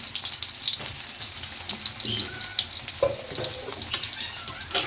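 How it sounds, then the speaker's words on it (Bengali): Cumin, dried chili, onion and green chili frying in hot oil in a pan, giving a steady crackling sizzle broken by occasional stirring scrapes. "প্রথমে জিরা, শুকনা মরিচ, তেল, এখন পেঁয়াজ দিব, কাঁচামরিচ।"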